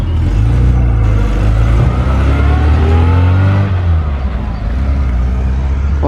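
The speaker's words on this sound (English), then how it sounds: "A couple of the minis are leaving, including the Mark I Cooper S." A Mark I Mini Cooper S pulls away from a car meet, its engine note droning and rising as it accelerates nearby, steady and fairly loud, with speech faintly mixed in.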